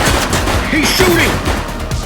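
Gunfire in the police game The Precinct rattles in quick bursts under a noisy scene, with voices talking over the shots.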